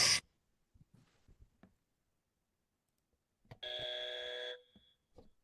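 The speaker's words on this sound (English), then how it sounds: "he's got a buzzer now" A buzzer sounds once during a sports broadcast, a loud sustained electronic tone lasting about a second, with scattered quieter sounds before and after.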